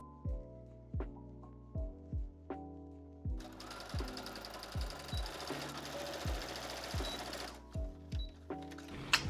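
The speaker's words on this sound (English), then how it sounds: "I'm just folding it in half and sewing it right across these top edges." A sewing machine stitches across the folded top edges of a skirt panel, first in short separate bursts, then in one longer continuous run, before returning to a few brief stitching bursts, close and clear.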